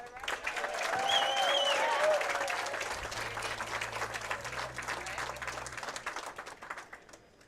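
Applause from the crowd at a women's professional bowling tournament final, the Cleveland Open: sustained clapping that swells over the first two seconds, then holds steady and slowly thins, with a low steady hum underneath.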